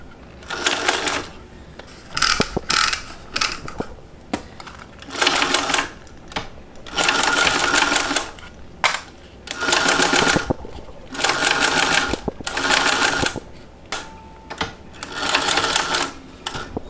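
A sewing machine runs in bursts, stitching along zipper tape at a 1/8 inch seam allowance, with several loud runs of rapid mechanical whirring separated by short pauses, close up and alone.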